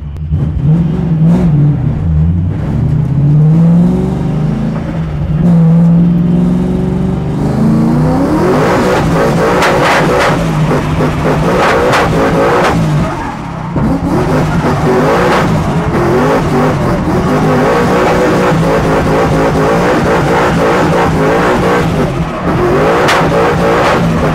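A 900 bhp left-hand-drive Ford Mustang drift car on a track revs hard and loud, its engine rising and falling through repeated throttle blips and sustained high-rev roaring, with tyre squeal underneath and no talking.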